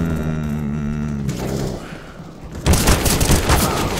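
Automatic rifle fire in the video game CS:GO breaks out as a rapid, loud burst of shots in the last second and a half, after a sustained tonal hum and a quieter stretch.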